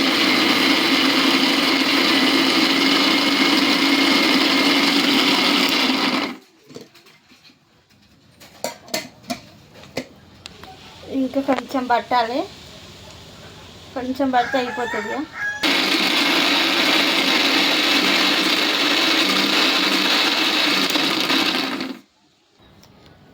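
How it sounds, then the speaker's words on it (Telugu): A ten-year-old mixer grinder runs with a loud, steady whirring roar for several seconds, stops while a person speaks and a rooster crows nearby, then starts again and runs steadily before cutting off. "ఇప్పుడు మిక్సీ"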